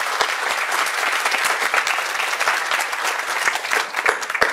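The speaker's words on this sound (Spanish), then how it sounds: "por favor le damos un aplauso a la doctora Mijangos por su intervención." Loud, vigorous applause from an audience at an academic panel, thanking a speaker after her presentation, with many individual claps standing out within a continuous roar and no speech.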